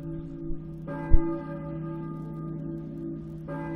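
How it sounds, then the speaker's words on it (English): A church bell in the video game Silent Hill tolls with a long ringing, sustained tone, struck about twice with a resonant decay between, alone and fairly quiet with a soft thump near the first strike. "a church bell, I think, but who's ringing it?"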